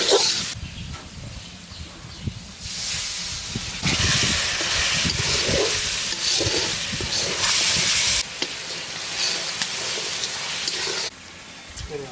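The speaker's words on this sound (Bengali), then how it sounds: "ভালো করে করতে হবে, নাড়া দিতে হবে।" Spice paste for mustard hilsa sizzles and fries loudly in a pan, a broad continuous hiss that swells and drops in sections as it is stirred.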